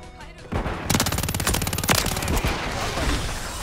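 Rapid automatic gunfire from Call of Duty: Modern Warfare III during a Domination match, sustained bursts of dense shots loud and close over a constant game background, with a voice talking underneath.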